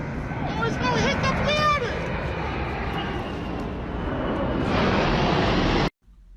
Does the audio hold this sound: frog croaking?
no